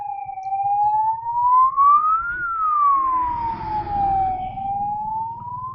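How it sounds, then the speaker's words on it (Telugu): An ambulance siren wails past on a mountain road between Badrinath and Rishikesh, a loud, clear tone sweeping up and down over a low engine rumble. "అంబులెన్స్లు తెగ తిరుగుతున్నాయి."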